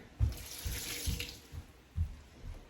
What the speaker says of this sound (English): I'm gonna put them through the strainer and rinse them off here.